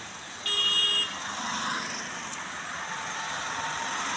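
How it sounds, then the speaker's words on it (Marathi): Traffic drives past on a road beside a Narmada pilgrimage foot trail, a steady moderate rush of passing vehicles with a brief tonal horn-like toot near the start, no voices. "गाड्या चालल्या"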